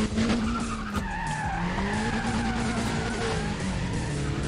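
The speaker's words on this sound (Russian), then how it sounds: "Отлично, он тормознул." A race car in the Need for Speed ProStreet video game brakes hard and skids, with a loud, continuous tire squeal sliding in pitch over steady engine noise for several seconds.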